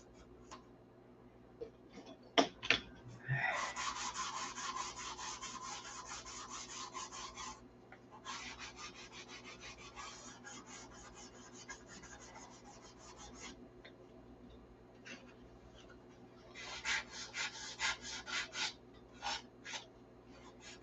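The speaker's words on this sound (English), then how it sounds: "I'm gonna have to spend some time caling and sanding those scratches out of that." Sanding scratches out of a hand-built 1/2 A Cobra model airplane wing: dry rasping strokes in bursts, a long stretch of steady rubbing followed by a pause and then a shorter run of quick strokes, close and fairly quiet.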